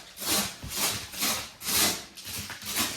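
A margin trowel smears mortar onto a fireplace, making repeated scraping, rubbing strokes in an uneven rhythm, about six close, moderately loud passes with no voices.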